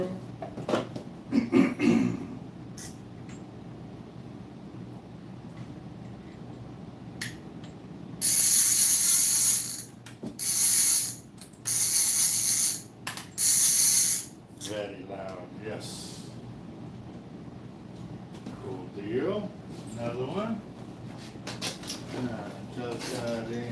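Ratchet clicking from a new offshore fishing reel, several short bursts of rapid clicks separated by pauses, loud and close between quieter stretches with someone talking.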